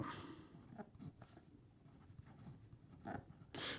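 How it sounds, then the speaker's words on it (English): An OMAS Bologna fountain pen with a fine 14 karat gold nib scratches softly across paper in short strokes, faint and close, with a couple of louder rustles near the end. "So here we go with a writing sample for the OMAS, and this is the Bologna."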